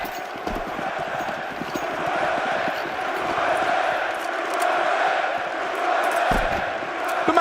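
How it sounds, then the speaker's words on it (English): A crowd roars and cheers continuously at the CS2 Austin Major esports match, a dense, loud wall of arena noise that swells slightly midway and holds steady throughout. "An eruption from the crowd there, giving the man his flowers."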